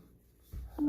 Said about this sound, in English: just got a notification there